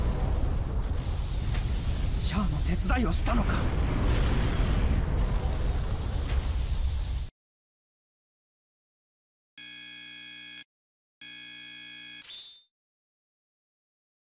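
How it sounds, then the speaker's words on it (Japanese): A huge explosion splits the asteroid Axis in the video game Another Century's Episode 3, a loud sustained roaring blast with crackling bursts that cuts off abruptly, followed by two short electronic buzzer tones. "アクシズを分断させる爆発が強すぎたようです"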